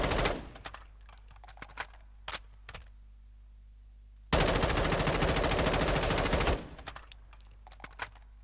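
Sustained automatic fire from an M4 rifle in Call of Duty: Modern Warfare II, a loud continuous burst of about two seconds, with scattered single clicks and brief shots before and after.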